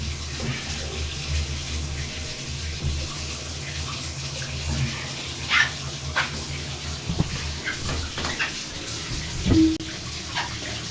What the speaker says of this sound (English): Turn the water back on.